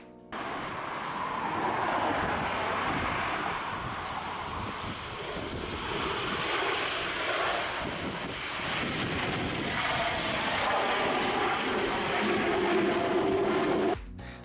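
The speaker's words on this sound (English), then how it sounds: "This plane has a hard landing due to a strong crosswind." An airplane roars low and loud through a hard landing in a strong crosswind, its engine noise rising and falling with gusty rumble across the whole stretch.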